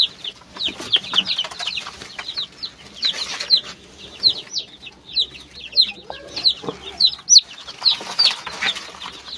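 Newly hatched chicks from a 256-egg incubator cheep in shrill, rapid bursts, many at once and close by, with a faint voice in the background.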